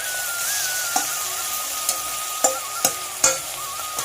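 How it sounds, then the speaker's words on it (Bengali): Giant freshwater prawns fry lightly in hot oil, giving a steady, even sizzle broken by a few sharp clicks as they are stirred in the pan. No one speaks. "চিংড়ি মাছ হালকাই ভাজতে হয়।"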